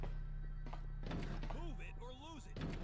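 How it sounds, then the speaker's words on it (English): Zombies bang on two doors in the survival horror game Resident Evil Outbreak, a few heavy thunks and knocks mixed with in-game sound effects and tonal cues at moderate loudness. "Okay, the banging on two doors."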